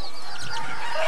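White-waisted hens cluck loudly and close, blending with crowing-like calls in a dense, continuous burst.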